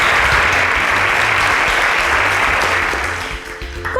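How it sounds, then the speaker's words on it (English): A studio audience claps and cheers after a young guest says she loves drawing, a dense, loud, steady burst of applause that tapers slightly toward the end on a Nigerian game show. "A round of applause for her,"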